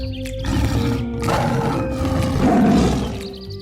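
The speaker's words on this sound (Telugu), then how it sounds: "అప్పుడే ఒక సింహం గర్జించే శబ్దం అడవిలో వినిపించింది." A cartoon lion roars in a forest, a loud, deep, rumbling growl that swells and holds for several seconds, close and alone without talk.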